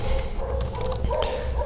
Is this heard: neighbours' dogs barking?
yes